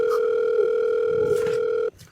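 A telephone sounds a loud, steady electronic tone for nearly two seconds, then cuts off abruptly into a quiet room.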